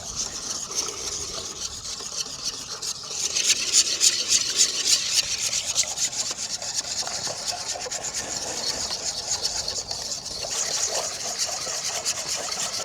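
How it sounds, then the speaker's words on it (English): Soap batter with fragrance oil whisked in a container, a continuous scraping rasp that grows busier partway through and keeps a steady rhythm. "So I'm gonna whisk a bit more"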